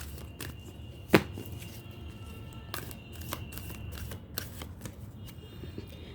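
Tarot cards are shuffled and drawn at a reading, giving soft riffling and light card slaps with a couple of sharp snaps, close and fairly quiet, with no talk over them.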